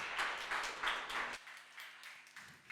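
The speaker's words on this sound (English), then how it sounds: "A round of applause for Nigel" An audience at an award ceremony applauds for a presenter named Nigel, a brief burst of rhythmic clapping that cuts off abruptly partway, leaving a faint hum and a few stray claps.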